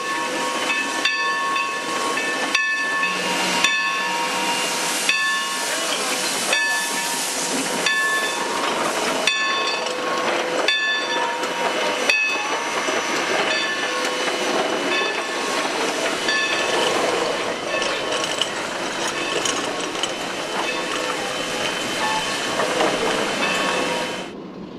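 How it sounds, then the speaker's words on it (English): Sierra Railroad Shay locomotive No. 2 runs around its boxcar train at Chinese in 1979: steady close steam hiss and chuffing rumble, with a brief whistle-like tone in the first seconds, all continuous and without voices. "the Shay uncouples from the boxcars and runs around its train for the return trip to"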